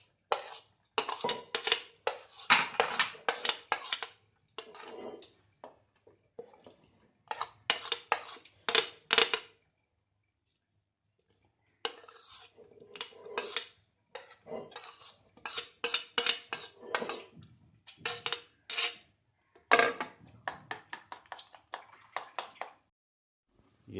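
Rapid clinking and scraping of a utensil against a bowl repeats in bursts with short pauses, chopped vegetables and eggs being stirred and mixed close by for an omelet.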